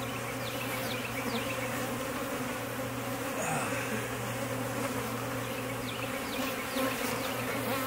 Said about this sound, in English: I'm going to shake a bunch of the bees into the new box.